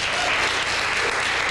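Studio audience applause on a 1993 Portland cable access TV show, a dense steady wash of clapping heard alone for a brief moment.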